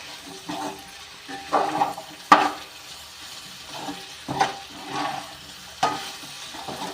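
A spatula stirs a potato stir-fry in a hot pan, soft steady sizzling broken by a series of scraping strokes and a few sharp clinks of the utensil against the pan, close and without talk.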